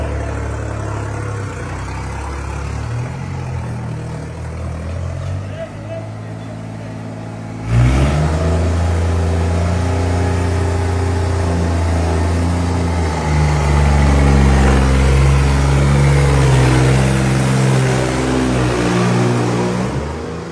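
A tractor engine runs close by, quieter and steady at first, then jumping to a loud, heavy rev with rising and falling harmonic tones as it is driven, staying loud to the end.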